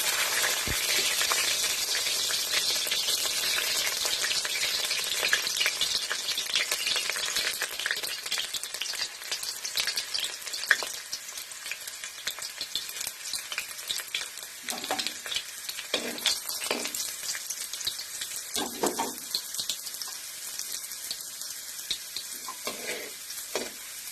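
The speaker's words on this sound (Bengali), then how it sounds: "কড়াই তেল গরম হয়ে গেছে, আমি রসুনটা দিয়ে দিচ্ছি।" Garlic and dried chili sizzle in hot oil in a wok, a steady bright frying hiss with occasional stirring clinks and scrapes, with no talk.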